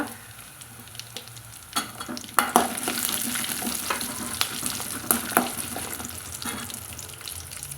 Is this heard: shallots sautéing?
yes